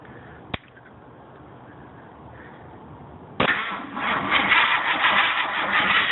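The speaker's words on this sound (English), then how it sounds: "We're going to start cranking and see what happens." A Ford 428 V8 starter motor cranks on a LiPo battery: a sharp click, a quiet hum, then a sudden loud, steady grinding whir that continues to the end, close and with no voices.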